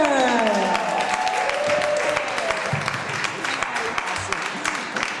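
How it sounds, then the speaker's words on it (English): Audience applause fills a comedy club show in Harlem, dense clapping and crowd noise carrying steadily throughout, with a voice-like tone sliding away at the very start. "Please start clapping right now."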